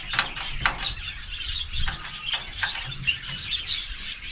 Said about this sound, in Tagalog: Yung alagang uwak.